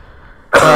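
A single sharp, loud cough bursts out close to the microphone after a quiet stretch, harsh and throaty, trailing into a rough clearing sound.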